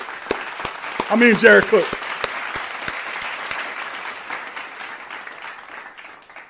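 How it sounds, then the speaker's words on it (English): Loud round of applause and cheering from a crowd at a New Orleans Saints event honoring Drew Holiday, with someone talking over it and strong handclaps early, then tapering off. "We get the round of applause going, bro."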